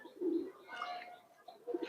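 Pigeons cooing inside a loft, soft throaty coos from a couple of birds with a brief chirp, faint and close with no talking.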